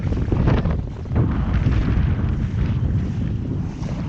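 Strong wind buffets the microphone while windsurfing at sea off Fuerteventura, a loud, continuous roaring rush with gusty swells and no voices.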